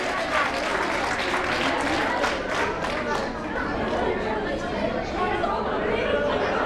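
An audience at a stage event claps in sustained applause mixed with crowd chatter and voices, holding steady throughout.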